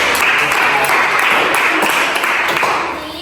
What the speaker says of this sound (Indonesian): Beri tepuk tangan untuk Indri.